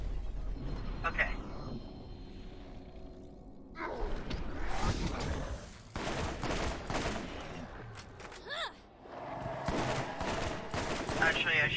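Rapid bursts of gunfire from the Borderlands shooter game, loud and repeated in clustered volleys across the clip, with a player talking over the shooting.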